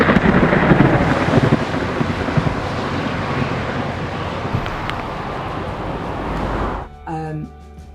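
Thunderstorm with torrential rain and wind on an open road, a dense, loud, steady roar of rain and gusts buffeting the microphone, with a low rumble early on and a voice breaking in at the end.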